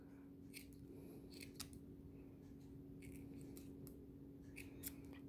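Scissors snip plastic banding to make Christmas decorations, a series of crisp close cuts in irregular bursts over a quiet background, with no talk.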